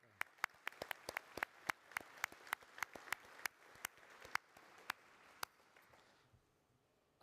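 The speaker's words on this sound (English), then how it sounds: "would you join me in a short round of applause?" Sparse, quiet applause at a health and wellbeing awards evening, a handful of people clapping in distinct, irregular claps over a faint room background before fading out.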